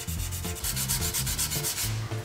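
A bar file scrapes in steady rhythmic strokes across a curb-scratched 22-inch alloy wheel of a Toyota Alphard, a close, continuous rasping sound with no voices.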